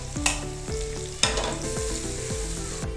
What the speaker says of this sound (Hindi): तो चले इसको अच्छी तरह से हम भूनते हैं।